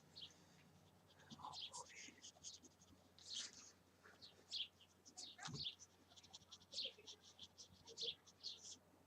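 Sparrows chirp outside in short, repeated high tweets scattered throughout, fairly faint and close to background noise, with a brief rustle partway through.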